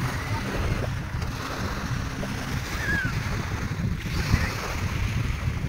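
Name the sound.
sea waves at a beach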